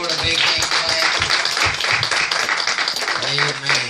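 A gathered lodge congregation claps for the Lord, a dense, continuous wash of hands with a speaking voice running over it and a slight echo in the room.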